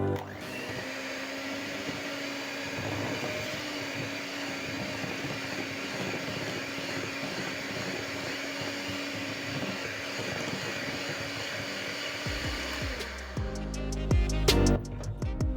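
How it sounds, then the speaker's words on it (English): An electric mixer whirs steadily for a long stretch, beating chocolate cupcake buttercream with a little milk, a constant close motor drone that cuts off near the end into a few clanks. "at this point, I'm going to use my mixer and mix until the buttercream is"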